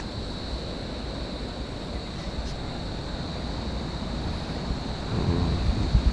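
Surf on an island beach in the Philippines, a steady wash of waves mixed with wind buffeting the microphone, continuous and fairly loud, with no one speaking.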